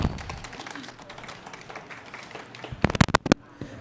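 An audience at an event on young changemakers applauds children, a light patter of clapping under background chatter that ends in a few sharp, close claps.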